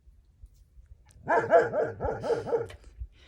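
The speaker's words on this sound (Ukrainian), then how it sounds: "коли я виходжу з хати, вона починає гавкати" A female dog barks about six times in a quick, steady series of loud, close barks, alone with no talk, after a brief quiet moment.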